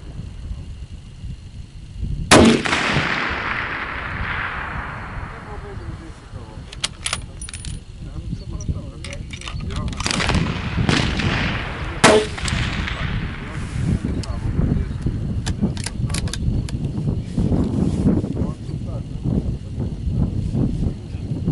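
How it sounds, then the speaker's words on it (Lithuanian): Two sharp, loud rifle shots crack out about ten seconds apart from a Tikka T3 Tac .308 Win and a Sako Quad .17 HMR, each with a short outdoor echo, over a background of wind and rustling. "dabar va, vyrai šaudo."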